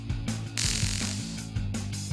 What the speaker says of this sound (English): A 1950 sewing machine.